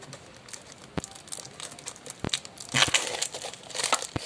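Packaging being torn open around a first-volume Chainsaw Man manga, giving irregular crinkling and crumpling with a few sharp tearing snaps, close and moderately loud, with no voices.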